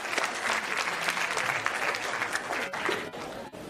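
Crowd at a Sierra Leone talent show claps for a spoken-word contestant, with lively, dense applause that thins and drops out briefly near the end.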